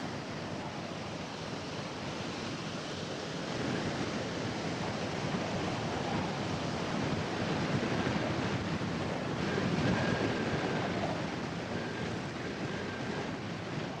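Ocean waves wash onto the Atlantic coast of southern Africa in a continuous, even surf roar mixed with wind noise, loud and unbroken throughout, with no voices.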